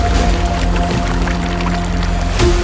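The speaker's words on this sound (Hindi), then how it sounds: "इस तरीके से लाल पानी बहता हुआ नज़र आ रहा है।" Red, iron-rich water streaming down a mountainside at Shrikhand Kailash, a steady close rushing pour with a low continuous rumble, heard alone without talk.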